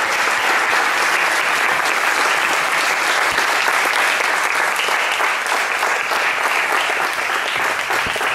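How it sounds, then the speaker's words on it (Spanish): Steady loud applause from an audience at a book presentation fills the room with dense continuous clapping that holds evenly for several seconds without talk. "Un aplauso muy fuerte para su autora."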